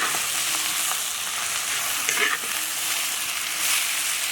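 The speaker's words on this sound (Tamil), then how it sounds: "தக்காளி, வெங்காயம் நல்லா வதங்கிடுச்சு." Tomatoes and onions sautéing in a pan for kadai chicken, giving a continuous close sizzle and crackle with occasional stirring scrapes throughout.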